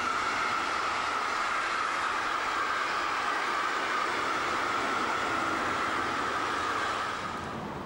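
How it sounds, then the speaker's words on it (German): A DB class 151 electric locomotive rolls through Hamburg-Harburg station with a steady, sustained rumble and rail hiss, fairly close, holding even until it eases off in the final second; no voices. "Eine 151 rollt im Bahnhof Hamburg-Harburg."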